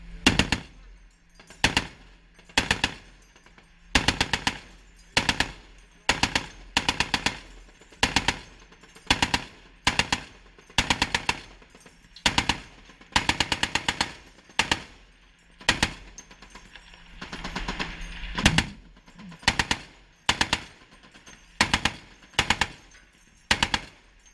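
Sailors fire M2 Browning and twin M2HB heavy machine guns aboard a navy ship, loud bursts repeating at regular intervals with short pauses between them for over twenty seconds.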